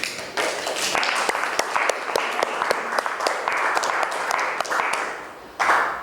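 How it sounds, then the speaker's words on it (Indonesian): A classroom of students claps together for a group after a field-measurement presentation, a steady close round of applause lasting several seconds, briefly swelling again at the end. "Kasih aplaus juga untuk kelompok 7."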